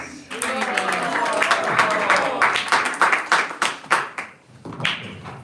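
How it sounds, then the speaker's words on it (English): Festival audience applauding, a dense burst of many hands clapping that thins into scattered separate claps toward the end, with a voice speaking over the start. "Thank you for the delayed clap."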